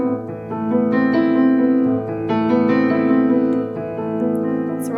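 A sad, dramatic left-hand piano arpeggio pattern walking root, fifth and root upward by steps, with sustained low notes ringing steadily and close throughout, with no voices.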